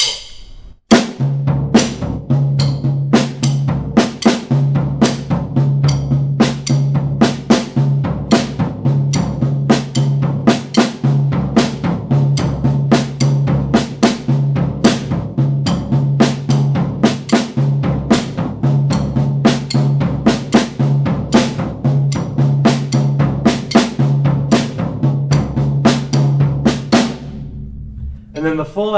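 A drum kit exercise with accents on the snare and the remaining notes on the toms, a steady, loud, close pattern of rapid strokes with no talk.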